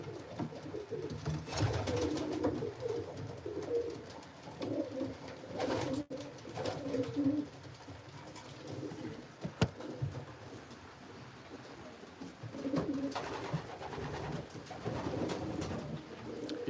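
Racing pigeons coo inside a loft, low throaty calls repeating in bursts through a quiet indoor background, with occasional wing flaps and knocks, no speech.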